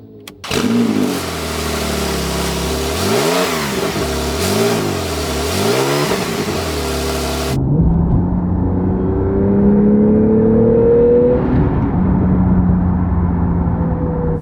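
Porsche 991.2 GTS flat-six revving hard on the move, rising and falling in loud repeated surges, then settling into a steadier drone with a long climbing engine note as the car accelerates.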